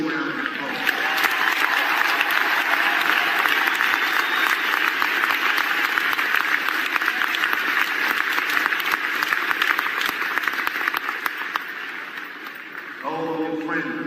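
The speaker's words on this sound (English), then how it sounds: "Please give them your warmest round of applause." A large crowd applauds at a Dave Chappelle stand-up comedy show, loud sustained clapping and cheering filling the room at an even level before tapering slightly near the end.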